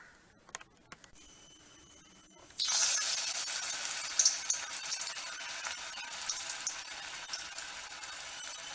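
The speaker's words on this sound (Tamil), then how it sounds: "இப்போ நம்ம எண்ணெயில் பொரிச்சு எடுக்கலாம்." Potato pakoda batter dropped into hot oil, a faint clink first, then a sudden bright sizzle that keeps crackling and bubbling steadily.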